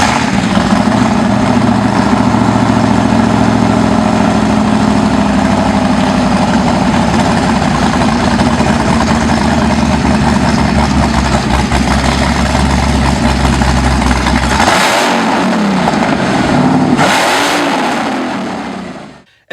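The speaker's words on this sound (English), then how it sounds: "a 7-liter 426 with a supercharger." Supercharged 7-liter 426 engine of a Dodge Charger Ghoul SRT, a loud, deep, continuous rumbling drone held steadily and close, ending in a couple of sharp blips before cutting off.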